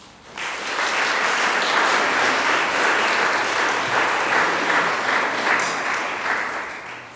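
Audience applause welcoming Minister Diana Whelan at a Pride flag raising event, a sustained burst of clapping from a crowd that starts abruptly and holds steady for several seconds before tapering.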